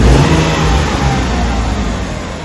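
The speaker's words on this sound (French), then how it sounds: "Accélérer vite fait pour vous montrer." A car engine revs hard as it accelerates, loud and close, with a steady roaring drone throughout and no voices.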